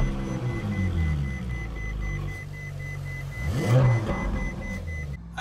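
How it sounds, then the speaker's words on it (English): A Ferrari 458 engine starts up and revs. A low mechanical rumble swells into a brief rising rev midway, then settles back down, moderately loud and with no talk over it. "When you start it up, it sounds amazing."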